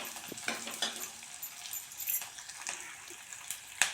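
Onions and beetroot sautéing in a pan give a soft sizzle with frequent spatula scrapes and small metallic clinks, fairly quiet and with no talking.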